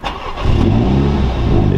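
A car engine with stock exhaust cranks and fires close by, settling straight into a loud, deep, steady idle rumble with no one talking.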